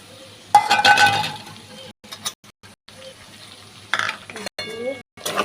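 Cumin, coriander and ginger are added to a pan and stirred, giving a few clinks of a utensil against the pan and brief scraping bursts between quiet gaps.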